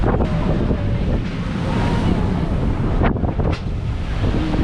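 Rough sea waves and strong wind buffet a sailing yacht cruising off Fiji, a loud continuous roar of wind across the microphone with surging surf throughout, and voices faintly present under the noise.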